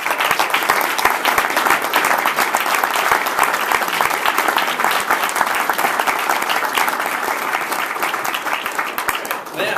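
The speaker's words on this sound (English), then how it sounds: "let's give a real serious hand of applause" A Rotary Club meeting audience breaks into sustained, dense applause, many hands clapping steadily and loudly for the full stretch with no talk over it.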